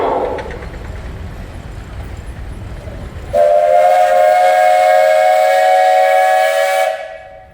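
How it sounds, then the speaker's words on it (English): A steam traction engine at a parade sounds its whistle in one long, loud, steady blast lasting several seconds after a stretch of rumbling engine noise, then cuts off sharply. "Mark, you got a whistle?"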